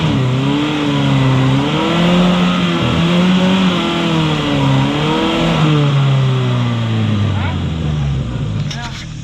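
A truck engine revs and strains in rising and falling waves as it crawls over rough terrain in rural Sierra Leone, loud and close, with a crunch near the end and a voice shouting at times.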